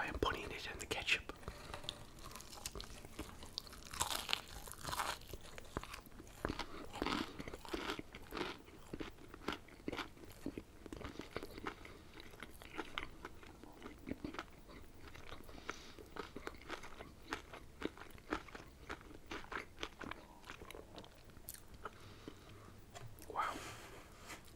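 Crunchy fried chicken fingers from Raising Cane's are bitten and chewed close to the microphone, with repeated crisp crunches and wet chewing through the whole stretch under soft whispered talk.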